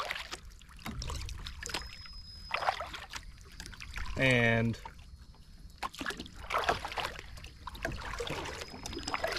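Paddle strokes of an 11.5-foot Perception Outlaw fishing kayak dip and splash softly in calm water, with light trickling between strokes and a person talking over it.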